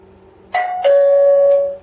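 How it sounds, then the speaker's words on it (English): A Xiaomi security system doorbell rings out a clean electronic chime: a short first tone, then a longer sustained note that fades, loud and close with a faint quiet hum beneath. "Just a simple doorbell for that one"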